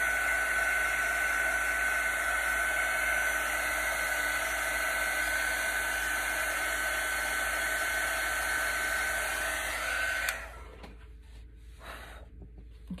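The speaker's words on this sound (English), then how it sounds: "I'm just really going to try and get the air on it to dry faster" A blow dryer on a low, not very hot setting blows steadily and loudly to dry paint on a buffalo plaid candy corn craft, its whir running nearly continuously before cutting off near the end.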